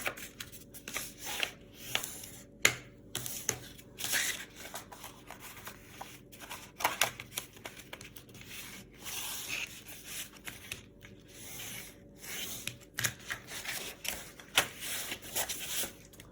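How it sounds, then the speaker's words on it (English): Paper folds for a gift card holder envelope are creased by rubbing with a bone folder, producing soft repeated scraping and swishing strokes in irregular bursts, close up and quiet, with no talking. "this is where a bone folder or creasing tool comes in handy"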